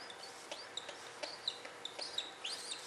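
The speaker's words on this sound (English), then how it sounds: "And it also sounds like a clucking sound," A rescued baby pigeon makes a series of short, high, chirpy clucks like a chicken, close by, in irregular bursts over a soft background hiss.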